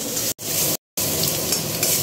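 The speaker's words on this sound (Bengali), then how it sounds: "এখন এখানে পেঁয়াজ ভাজা হচ্ছে" Onions fry in a pan in a home kitchen, giving a loud, close, continuous sizzle that cuts out twice briefly, with stirring scrapes and no talk.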